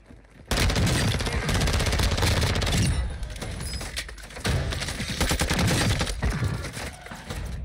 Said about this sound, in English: Who's shooting at me while I'm shooting at him while he's shooting at me?